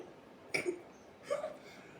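Two short, close burps after drinking Knox sparkling hydration drink, each a brief throaty croak with a tonal tail, about three-quarters of a second apart in a quiet room.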